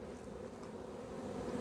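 A dense, steady buzz of honey bees leaving a shipping package box, a low constant drone that holds at moderate loudness throughout with no voices over it.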